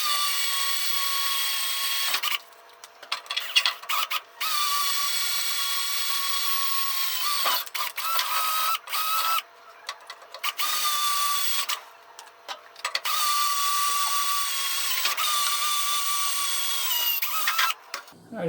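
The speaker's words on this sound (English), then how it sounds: "Couple little punch marks and we'll drill it out." A power drill whines in several bursts, drilling holes in a metal bracket, starting and stopping repeatedly, close by with short pauses between each run.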